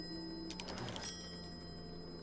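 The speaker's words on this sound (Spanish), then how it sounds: "Tu teléfono." Telephone ringing in the horror game Call of Cthulhu, a burst of several short electronic trills in the first second over a steady background hum, then fading out.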